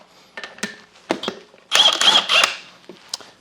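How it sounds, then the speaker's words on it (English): A bolt is tightened by hand on a BeadBuster XB 550 heavy-duty tire bead breaker, giving loud, close metallic clicks and ratcheting scrapes with a sustained grinding burst midway, and no speech. "And then we need to tighten this bolt here."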